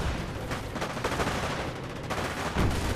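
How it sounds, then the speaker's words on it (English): In a Company of Heroes Eastern Front match, submachine guns fire during a close-quarters fight, with dense, rapid crackling bursts over a busy battle din, moderately loud and continuous. "Those SMGs have started cranking."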